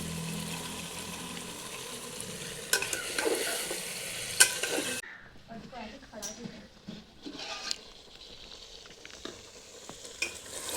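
Mutton sizzles and is stirred in a pan for mutton kosha, with scraping spoon strokes over a steady frying hiss that quiets partway through.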